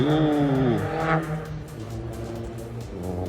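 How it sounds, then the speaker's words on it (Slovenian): Motorcycles pass close by on a road, their engines rising and falling in pitch as they go past, with no voices over them. "Mater, imamo motore."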